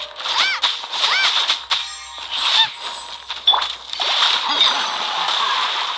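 Water splashes in the Genshin Impact video game, a series of short splashy bursts mixed with bright chiming game effects and tones, fairly loud and close, with no talking.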